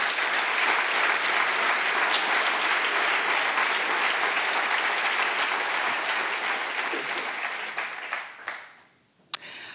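An audience claps in tribute to a late colleague at a science-and-politics session, sustained and even for most of the stretch, then fading away near the end, with a sharp knock as it stops.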